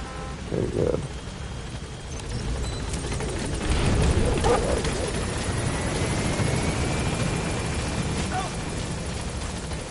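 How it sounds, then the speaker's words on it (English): Steady rotor drone of a helicopter in the video game Metal Gear Solid 5, a continuous low rumble persisting throughout with brief game sounds layered on top. "And then right back into the chopper."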